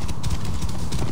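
A brief burst of galloping horse hooves from Assassin's Creed Origins, rapid thudding beats close and loud with no talking.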